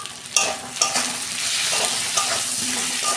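Spice masala with salt, red chili powder, cumin and coriander powder sautéing in a pan: continuous close sizzle with a few sharp spatula scrapes and stirring knocks, steady and loud, no speech.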